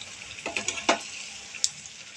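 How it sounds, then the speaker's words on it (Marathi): Potato bhaji batter fritters fry in hot oil with faint, scattered crackles and small sizzling pops. "तर आता ह्याला पण चांगलं ब्राऊन कलर येईपर्यंत तळून घेणार"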